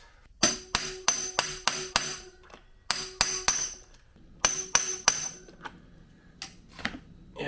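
Impact wrench hammering loose a neutral sending unit on a Kawasaki Bayou ATV during a bottom-end teardown, in three close, loud bursts of rapid clattering blows separated by short pauses.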